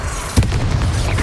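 Flipendo spell blast in Hogwarts Legacy, a thumping low boom with a bright crack near the start, ringing briefly over a busy, continuous layer of combat noise and rumble.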